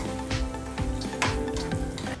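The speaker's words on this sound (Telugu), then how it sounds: "పొట్టు తీసి పెట్టుకున్న వెల్లుల్లి రెబ్బలు ఒక 4-5. ఇప్పుడు ఇవి కొంచెం ఫ్రై అవ్వనిద్దాము." Peeled garlic cloves and tempering seeds fry in hot oil for green mango chutney, giving a steady close sizzle with small pops and occasional stirring clicks.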